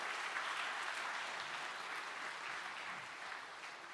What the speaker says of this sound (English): put your hands together and give us a word of applause to all the lay elders